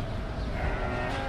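Goats bleat amid the dense, constant clamour of a large sacrificial livestock market in Mecca ahead of Qurban, the calls blending into steady crowd and animal noise.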